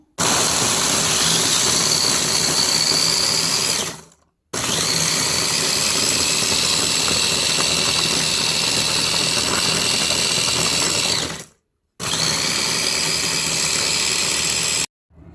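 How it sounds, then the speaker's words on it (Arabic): Food processor grinding biscuits fine for a Lotus cheesecake, a loud steady whirring motor run in three bursts, the longest about seven seconds, each ending abruptly with brief silence between. "هنا انا حطيت البسكوت بتاعي في محضرة الطعام، هطحنه لحد ما يكون ناعم جدا"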